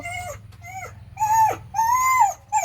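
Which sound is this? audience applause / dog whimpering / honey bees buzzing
dog whimpering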